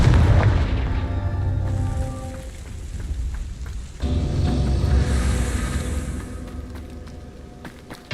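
Repeated Confringo fire spell blasts from the video game Hogwarts Legacy, heavy booming explosions with crackling rumble, a fresh loud burst midway followed by a decaying roar, with no talking.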